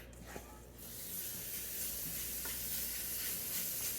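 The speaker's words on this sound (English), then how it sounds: "I'm going to set that aside and then cook up the sausage." Sausage sizzles and crackles as it fries in a pan, a close steady hiss that swells after a brief start and carries on with light spattering pops.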